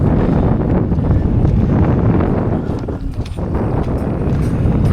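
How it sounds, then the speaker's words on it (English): Steady, loud wind roars across the microphone while sailing a Hobie boat, a continuous rushing buffet with slight dips in strength and no talk. "The wind is coming this way, so we're gonna have to sail upwind, tack"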